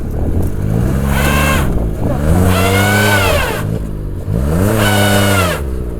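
A car stuck and being driven out revs its engine in three long, loud swells, each climbing and falling in pitch, with people talking over it.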